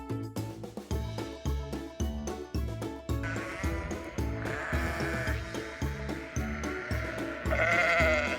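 Sheep bleat in repeated wavering calls over a steady, rhythmic musical backing, close and fairly loud throughout.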